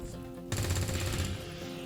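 Rapid gunfire rattles out from soldiers shooting in the video game XCOM 2, a dense automatic burst that kicks in suddenly after a quiet half second and continues to the end over a droning game soundtrack.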